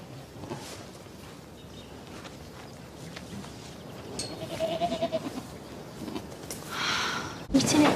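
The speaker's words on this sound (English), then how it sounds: "Something about a stray goat." A stray goat bleats faintly a few times under low background noise and speech, with a brief rustle and a louder knock near the end.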